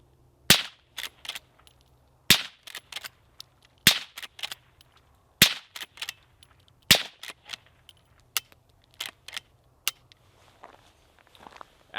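Sharp, short cracks from a suppressed Henry lever action rifle in .22 Magnum, six main reports spaced about every one and a half seconds, each followed by smaller clicks and clacks of the lever cycling, fairly close.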